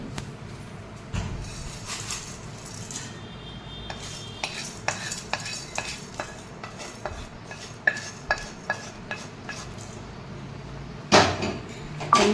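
Roasted spices for a black chutney powder are scraped and tipped from a pan onto another plate. A spoon clinks and scrapes in a rapid, uneven series of sharp taps, ending in a louder clatter, with no talking.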